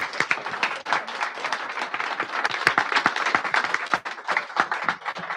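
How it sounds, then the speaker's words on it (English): A book-talk audience claps warmly: steady, close applause full of sharp individual claps that carries on evenly throughout without anyone speaking. "Big round of applause."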